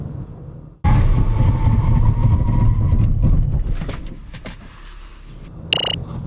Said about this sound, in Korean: 이번에는 라브4의 제동 성능에 대해서도 한번 알아볼까요?